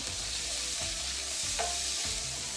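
Already-cooked vegan food sizzles steadily in butter in a pan, a close, continuous frying hiss with a few soft stirring clunks and no voices.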